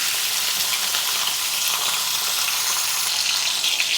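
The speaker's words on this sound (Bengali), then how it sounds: "এবার মাছের সঙ্গে এটা কষিয়ে নেব পেঁয়াজগুলো একসঙ্গে কষিয়ে নেব" Fish pieces and onions fry together in a pan over a lowered gas flame, a loud, even, close-up sizzle with faint stirring and no voices.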